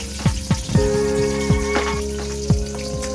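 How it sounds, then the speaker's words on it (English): Chilies fry in oil over a slow flame, giving a steady close sizzle broken by regular sharp pops and ticks. "The chilies has to get fried properly"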